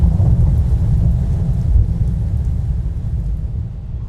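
A thunderstorm with deep rolling thunder rumbling over steady rain, loud and continuous before slowly easing off, with no voices.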